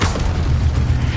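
Incendio fire spell cast in the video game Hogwarts Legacy, a loud, close, deep whooshing boom that lasts about a second.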